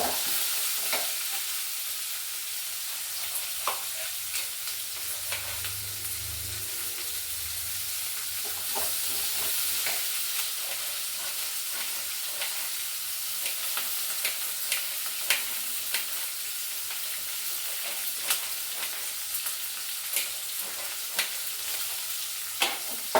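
Four green chillies and a tomato fry in a pan with a continuous even sizzle, punctuated by frequent light spatula clicks and scrapes throughout a long stretch without talk.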